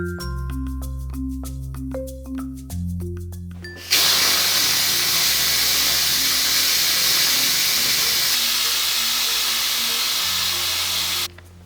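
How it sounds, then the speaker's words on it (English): Loud, continuous hiss of steam venting from a pressure cooker that had been cooking seitan, bursting in over background music and roaring steadily for about eight seconds before cutting off abruptly. "I just released the steam of my pressure cooker"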